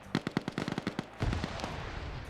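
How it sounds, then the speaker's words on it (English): Rapid gunfire in a video game, a quick burst of about a dozen sharp shots followed by a heavier blast and rumbling noise, fairly faint with no talk. "He's now firing with less gunfire around him."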